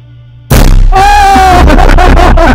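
A single very loud shot from a 9mm EDgun Leshiy 2 air rifle bursts out after a quiet moment and rings on, with startled voices exclaiming right after.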